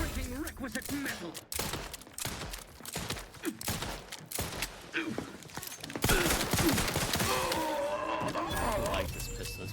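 Irregular pistol shots in a video game, sharp individual cracks scattered among other game noise, with a voice talking over parts of it.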